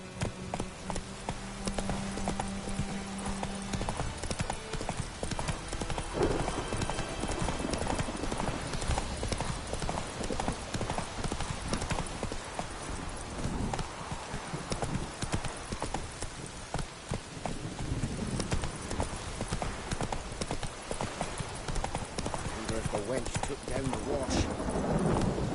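Hooves pound steadily as a horse gallops in The Witcher 3, a continuous rapid clip-clop running the whole time under game ambience, with a voice speaking briefly over it.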